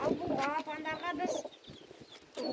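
Chickens and young chicks gather at a water feeder on a small farm, giving close, repeated clucks and high chirps in short bursts.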